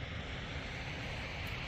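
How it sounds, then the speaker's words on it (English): Water washing steadily against a lakeside shore near a dam and lock, a continuous soft wash with some wind noise and no voices. "I love the sound of the water."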